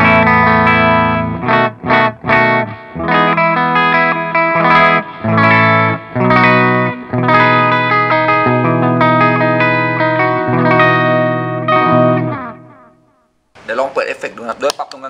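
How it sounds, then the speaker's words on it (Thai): Electric guitar with a clean tone through a Diezel amp, strummed chords and picked notes ringing with some chorus-like shimmer, loud and steady before a brief pause and a short return. "ใช้แอมดิเซลวีเอส4เสียงคลีนเสียงคลีนประมาณนี้นะครับ"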